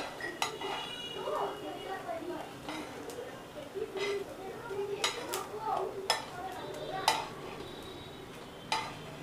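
Fried leftover idli pieces are lifted one by one from a pan with a metal utensil, giving sharp clinks and scrapes over a faint sizzle, while someone talks throughout.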